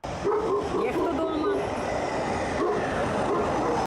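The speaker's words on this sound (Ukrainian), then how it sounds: "собаки у дворі та на прив'язі" Dogs bark repeatedly at a moderate distance from a yard, some on a chain, while a voice talks over them, set against a steady, noisy outdoor background.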